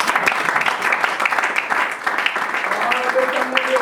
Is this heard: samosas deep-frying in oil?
no